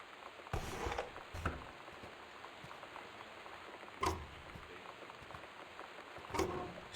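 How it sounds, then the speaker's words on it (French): Constant rain in the video game Gone Home, a faint, steady patter like rain on a roof, with a few brief louder knocks and rustles over it. "Ce qui m'embête, c'est cette pluie absolument permanente."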